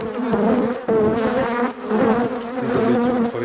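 Honey bees buzz loudly and steadily at an opened hive, a dense close-up drone with wavering pitch filling the whole stretch and no voices.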